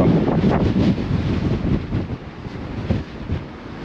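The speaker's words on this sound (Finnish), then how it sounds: "vitumainen tuuli täällä tota, kannella, kannella 12" Strong wind on deck 12 of the Silja Serenade ship buffets the microphone in heavy, rumbling gusts, loud at first then easing slightly, with a low background roar.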